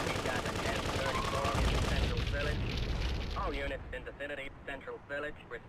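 Gunfire in Grand Theft Auto 2 comes as a rapid burst of shots over rumbling game noise. Then someone speaks in short phrases while the shooting dies away.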